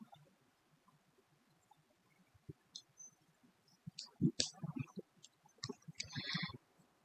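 A few faint, sparse clicks from a computer mouse pressing a login button in a web app, heard in a quiet room with slight background hiss.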